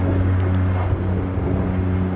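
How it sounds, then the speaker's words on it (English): Jetstar airliner taxiing at the end of a runway, a loud steady low engine hum and rumble heard close and constant throughout. "Jetstar is still taxiing down at the end of the runway, so it's about to cross"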